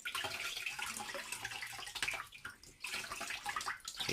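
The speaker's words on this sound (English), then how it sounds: "take it under the tap water" Tap water runs and splashes over an 8-inch f/4 Newtonian telescope mirror, a Soligor MT-800 Astro 200mm, as a steady close hiss that dips briefly and swells back.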